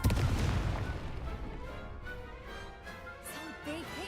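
A Confringo fire spell bursting in Hogwarts Legacy: a loud, dense blast at the start that decays into a rumbling, crackling tail, with a smaller flare of sound near the end.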